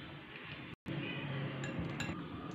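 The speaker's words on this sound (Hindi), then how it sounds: "थोड़ा थोड़ा करके हम वो ऐड करते जाएंगे और इसको मिक्स करते जाएंगे।" Tea cake batter is stirred while milk goes in a little at a time, a steady scraping swirl with light clinks of utensil against the bowl, fairly quiet and close, broken by one brief gap.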